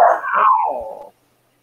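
A single drawn-out dog bark or yelp, loud and close, trailing off into a whine-like tail and then silence.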